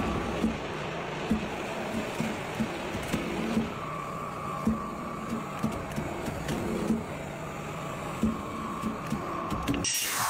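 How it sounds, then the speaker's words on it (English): An automatic sheet metal folding machine creases and folds steel, with a steady mechanical whir and regular rhythmic clunks at roughly half-second intervals, moderately loud and continuous, ending in a sharper thud. "This machine is an artist of sheet metal, automatically creasing and folding it into a complex three-dimensional shape."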